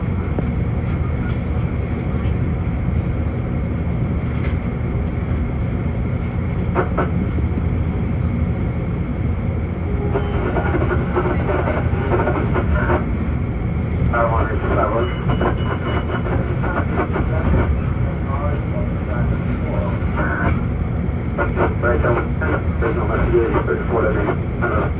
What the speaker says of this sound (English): This is the train to N Station.